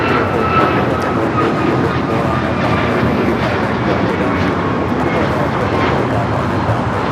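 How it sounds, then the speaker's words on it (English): A United Airlines Boeing 737 MAX 9 jet takes off, its engines a loud, continuous, broadband roar that holds steady throughout, close and dominant, with voices faintly under it. "This is United Airlines 1621 taking off to Orlando, Florida on the MAX 9."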